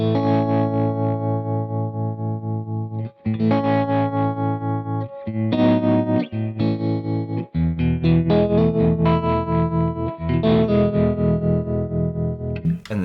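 Electric guitar played through a Crazy Tube Circuits White Whale V2 pedal in its octo setting: loud, choppy chords and riffs throb with a fast, steady tremolo pulse, broken by a few brief pauses.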